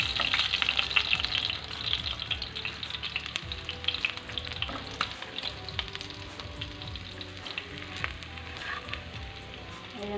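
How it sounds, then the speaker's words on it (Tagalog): Galunggong (round scad) fish frying in hot oil, a steady dense crackling sizzle with scattered pops and occasional utensil scrapes, close and continuous throughout with no talking. "So ayan guys po yung ating piniprito. Ayan, luto na po yung ating galunggong na pinirito."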